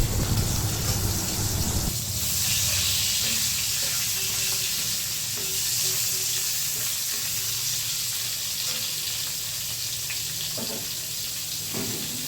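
Chopped tomato and a green chilli fry in a hot pan with a steady, close hiss of sizzling oil that carries on throughout, with a few faint clinks of utensils.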